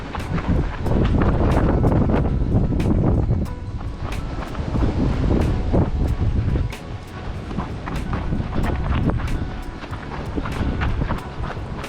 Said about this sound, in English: Oh man, it's getting cold and windy too.